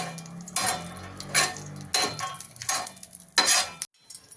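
Cardamom pods, including large black cardamom, are stirred and sautéed in a pan, giving close scraping stirs and utensil knocks at a regular rhythm over a faint sizzle.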